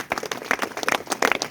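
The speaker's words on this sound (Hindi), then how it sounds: "एक बार उनके लिए जोरदार तालियां" Enthusiastic applause for Trilokchand Chhaura at an RCM gathering, a crowd clapping in quick, uneven bursts throughout, fairly close and lively with no talk.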